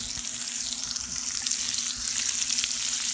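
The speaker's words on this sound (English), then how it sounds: "I'm just going to put these vegetables right in there where the shrimp were." Vegetables sizzle in a hot pan where shrimp were just cooked, a steady, close hiss of frying that carries on evenly with no talking.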